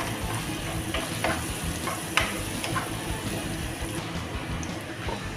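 Chopped onion and minced garlic sauté in a pan for saffron chicken, a steady close sizzle with small scraping and stirring clicks throughout.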